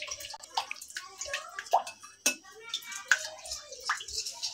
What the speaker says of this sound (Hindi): ये दो चम्मच मैंने अरारोट लिया है और ये मैंने पानी लिया है, इसे मैं अच्छे से घोल लूंगी